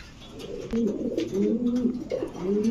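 Several pigeons, including king, beauty and pouter breeds, coo in soft, repeated rolling phrases close by in a loft, the calls overlapping steadily throughout.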